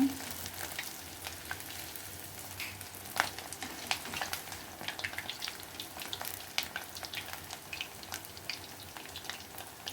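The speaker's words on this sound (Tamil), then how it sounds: "கோல்டன் ப்ரௌன் ஆகிற வரைக்கும் பொரிச்சு எடுத்துக்கோங்க" Idli pieces deep-frying in hot oil until golden brown, a steady close sizzle and crackle with scattered pops and sharp spits running throughout, no voices.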